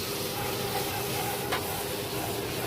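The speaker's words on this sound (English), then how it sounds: "just let it simmer away" Sugar syrup with orange peel simmers in a pot, giving a steady, soft bubbling hiss close by that continues without a break.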